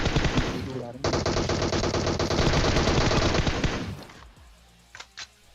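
Sustained automatic fire from an M4 rifle in PUBG Mobile, a loud continuous burst lasting about three seconds after a brief opening volley, then fading out with a couple of faint later shots.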